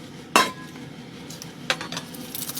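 Butternut squash pieces are tipped into a pan with a sharp clatter of pan and utensil, followed by a softer scrape and clink of stirring that tapers into faint rustling.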